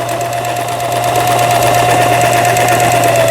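A 20-year-old Janome Lion 419S sewing machine, freshly repaired, stitching smoothly in a continuous loud, even mechanical whir with a steady humming drone and no pauses.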